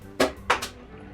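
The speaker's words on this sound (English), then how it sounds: "Oops! Knocked my water bottle over." Water bottle knocked over, a quick clatter of two or three hollow knocks in close succession, nearby and fairly loud in a quiet room.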